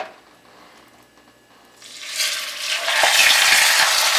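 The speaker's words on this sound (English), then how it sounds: "That we call browning the meat." Pork roast browning in a hot cast iron pot for a Jamaican-style recipe, quiet at first, then a loud hissing sizzle that swells and holds steady close up, with no talking.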